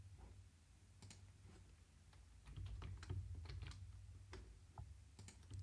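An email address and password being typed on a computer keyboard: a quiet, steady run of close key clicks at an uneven pace, with a low hum underneath.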